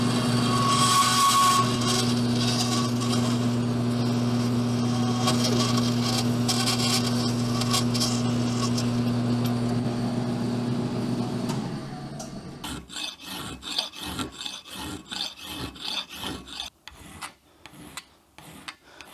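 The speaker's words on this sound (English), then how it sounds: "Let's go to the bandsaw and just see what happens." Bandsaw cutting a metal part in a workshop, a steady grinding whine with a low hum for about twelve seconds, then the motor stops and scattered rasping and handling noises follow.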